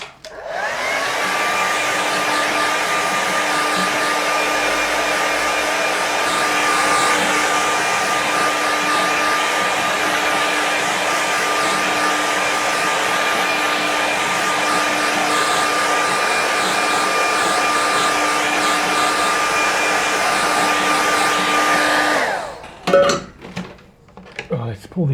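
Hair dryer drying a watercolour sky painting on a board, a steady loud whir lasting about 22 seconds with a sustained hum, then switching off, followed by brief handling clatter.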